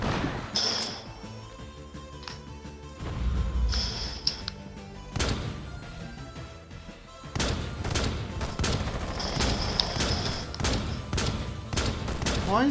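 Gunfire in the video game Rainbow Six Siege, with sharp bursts of rapid shots and separate loud single cracks spread throughout, close and punchy against the game's background.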